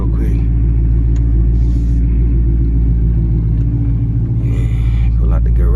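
A Kawasaki Z900 motorcycle engine rumbles deeply and steadily at close range as it pulls out of a garage, with a few brief clanks over the continuous low drone.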